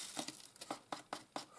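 Yellow pepper seeds spill from a small paper packet into a tray, giving soft, quiet rustling and patters in a few short bursts.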